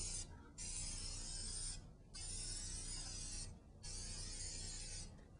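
Aerosol spray adhesive hisses onto a concrete countertop in three long, even bursts with short pauses between, close and steady with no talking.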